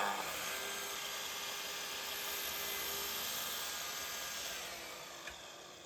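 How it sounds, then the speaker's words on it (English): A miter saw cross-cuts recycled wood for a planter box, making a steady, loud, high whining buzz of the running blade that eases off toward the end with a brief knock. "I'm using the miter saw for all the cross cuts"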